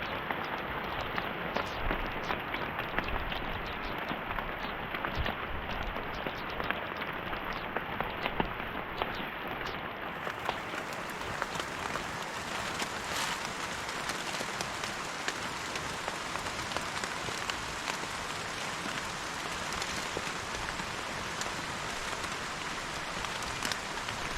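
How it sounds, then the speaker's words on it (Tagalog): Steady rain pours down continuously, a dense hiss of drops hitting surfaces, with no voices and an even intensity throughout. "Ito po, ulan."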